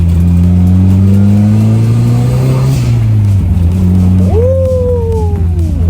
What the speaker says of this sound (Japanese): ブローオフは最高だよね